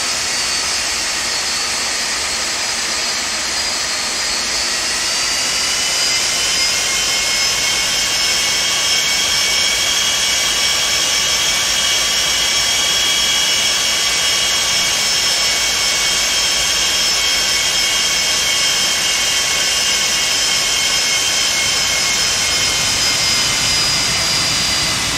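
Loud, steady jet engine roar from a simulated Felis 747-200 airliner in the flight simulator X-Plane 12, a sustained whine and rumble holding for the whole stretch with no one talking.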